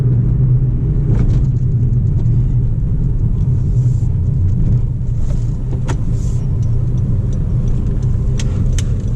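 Cabin recording of a Honda Amaze diesel car on the move, a loud continuous low road and engine rumble with occasional small rattles and clicks.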